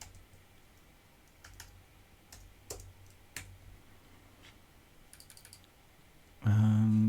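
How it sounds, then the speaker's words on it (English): Soft computer keyboard typing in a quiet room, scattered light key clicks in short bursts with pauses between, ending in a louder low hum. "Let's type in step 1 here."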